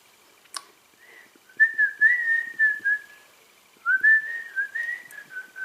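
Pet budgie gives a series of clear, bright whistled phrases after a brief chirp, in two bursts separated by a short pause, close and fairly quiet in an otherwise silent room.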